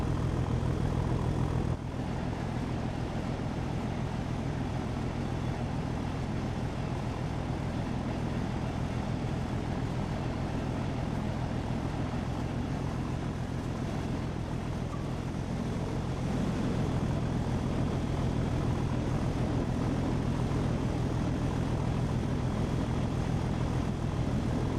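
Steam railtour train hauled by a Jubilee locomotive in West Cornwall, heard as a continuous rolling roar and rumble from on board while moving at speed, steady and unbroken for the whole stretch.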